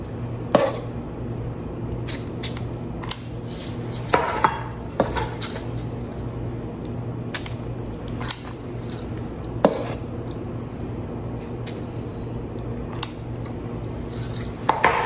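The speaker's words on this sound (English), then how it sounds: "I'm going to use a large ice cream scoop" A large metal ice cream scoop works through chocolate cupcake batter for German chocolate cupcakes, giving scattered clinks and scrapes against the bowl over a steady low kitchen hum.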